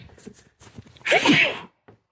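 A single loud sneeze bursts out right after some quiet murmuring, followed by a short faint sound.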